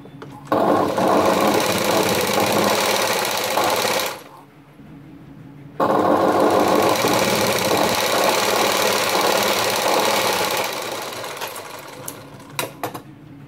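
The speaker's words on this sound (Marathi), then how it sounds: "ह्याच्यावर आपल्याला दाब शिलाई मारायची।" A sewing machine stitches a sleeve lining, running in a fast steady mechanical whir for a few seconds, pausing briefly, then running again before slowing to a few scattered clicks, close and loud with no talking.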